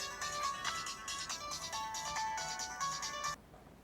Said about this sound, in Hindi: इमरान की अम्मी का फोन है।